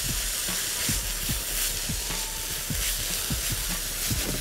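Hot peppers and green onion fry in a pan with a steady, loud broadband sizzle, punctuated by soft stirring knocks at irregular intervals, with no talking.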